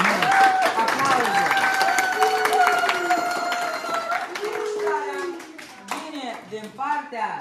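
Family guests clapping at a surprise birthday celebration, brisk clapping mixed with overlapping voices and a child's speech, the clapping loudest early and breaking into scattered bursts toward the end.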